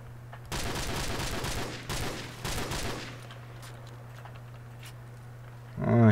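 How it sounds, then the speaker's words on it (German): Bursts of rapid automatic gunfire in the multiplayer mode of Call of Duty 4, loud and close for about two and a half seconds, then fading into quieter distant shots under a steady hum. "Schüsse jetzt eher auf meiner rechten Seite"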